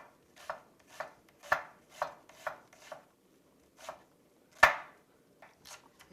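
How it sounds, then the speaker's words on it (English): A knife chops half an onion on a cutting board, about a dozen crisp, close, irregularly spaced cuts with one heavier stroke near the end and quiet pauses between. "while I heat it up, I'm going to cut it. Just a half onion is enough."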